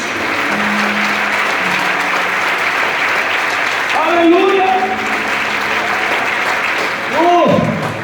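Church congregation applauding steadily throughout, a dense wash of clapping with someone calling out over it and a sung or chanted voice rising near the end.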